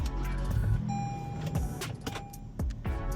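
A car engine runs at a steady idle with a low continuous rumble, while an electric window motor whirs and a few sharp clicks and thumps from inside the vehicle cut in, with no talking.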